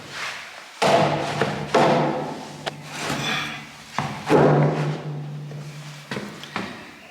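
Framing lumber is banged into place on a building site, giving a series of heavy wooden thumps and knocks at irregular intervals, loud and close, with scraping and handling sounds between the hits.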